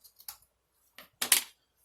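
Scissors snip through material while a ring-bound A5 planner is taken apart, a few quiet, sharp, close cuts, with one louder snip near the middle.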